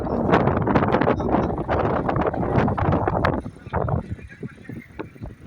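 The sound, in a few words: wind blowing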